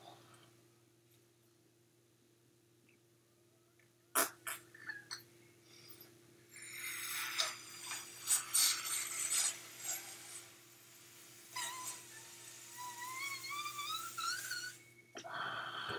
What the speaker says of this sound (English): So I'm going to go ahead and blow into the balloon.